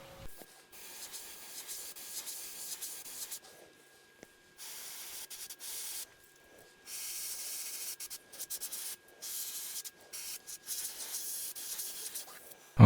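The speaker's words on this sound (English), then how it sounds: "with the black and the airbrush, what we're going to do is go ahead and darken up the back just a hair" An airbrush sprays black paint onto a 3D printed fishing lure in a series of steady, close hissing bursts that stop and start, with near silence between passes.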